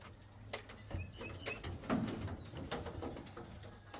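Indian fantail pigeons coo in a low, soft, repeated rumble close by, with faint chirps and light rustling around them and no talking.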